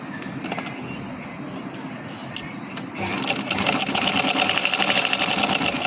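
A sewing machine stitching a child's frock hums with a steady mechanical whir, quieter at first, then running faster and louder through the second half, close by.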